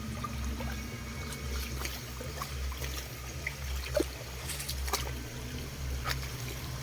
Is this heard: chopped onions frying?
no